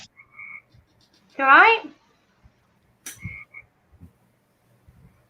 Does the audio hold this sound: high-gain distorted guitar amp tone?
no